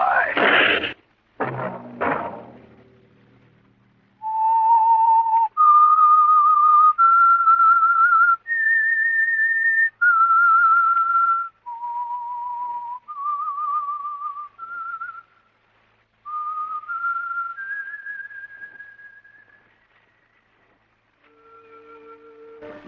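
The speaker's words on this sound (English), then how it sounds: "Let that whistle be your signal for the Whistler each Wednesday night at this same time." A human whistle plays the theme of The Whistler radio show, a clear solo melody of sustained pitched notes stepping up and down with short gaps, preceded by a brief burst of noise.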